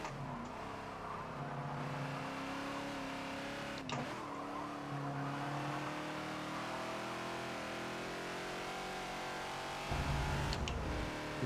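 Ford Falcon XB racing around Silverstone in the Forza racing game, its engine droning steadily throughout with pitch shifts as the throttle comes back on after braking, with no talk.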